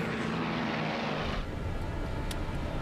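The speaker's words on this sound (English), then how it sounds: "Engine fluctuating." Airliner engines roar loudly during an abandoned takeoff, a steady powerful drone that shifts and changes character partway through, with no talk over it.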